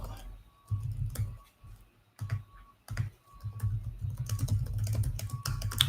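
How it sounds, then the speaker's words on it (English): Computer keyboard typing comes in short clattering bursts separated by pauses, close and fairly quiet, with a brief voice murmuring in between. "Sorry for typing as loud."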